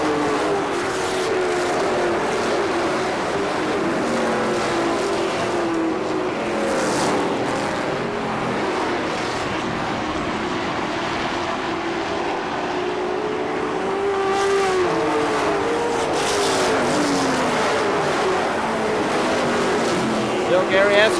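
Race cars roar around the oval at KilKare Speedway in Dayton, engines droning and swelling continuously as they pass, with an announcer talking over the racing throughout.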